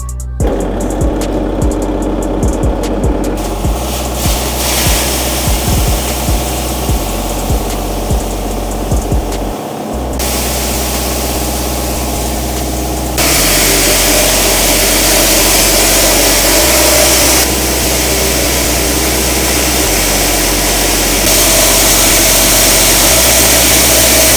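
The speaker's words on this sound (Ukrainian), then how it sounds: "Натискаємо кнопку Пуск і процес переробки запускається автоматично." An EXTRA-500 grain hulling mill starts up and runs steadily, a loud continuous mechanical drone with a deep hum and a change in pitch and intensity partway through as the machinery comes up to full operation.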